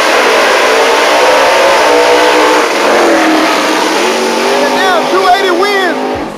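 A 280 race car and a Camaro accelerate hard in a drag race, engines roaring loudly and revving up, then the sound fades and shifts as the cars pull away, with a voice over it near the end.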